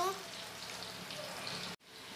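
Pointed gourd with poppy seed paste cooks in a pan, a soft continuous sizzle close by and quiet, briefly broken by a short gap before resuming.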